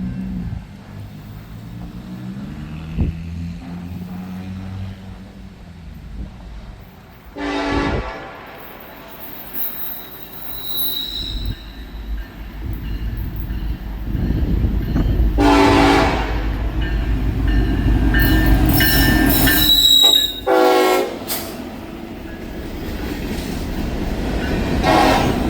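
CSX westbound manifest freight train M373 passing trackside at Terre Haute, Indiana, with a steady loud rumble of rolling cars and several long horn blasts sounding near the start, middle and later as it goes by.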